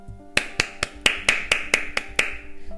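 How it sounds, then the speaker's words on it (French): About nine sharp, evenly spaced claps ring out alone in a children's story, crisp and close, a young boy applauding loudly with a quick steady rhythm before trailing off. "Le jeune garçon applaudit très fort."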